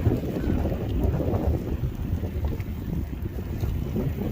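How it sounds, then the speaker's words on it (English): Strong wind buffets the microphone of a standing e-scooter rider on a very windy day, producing a continuous low rumbling roar with gusty fluctuations. "And the wind's catching me."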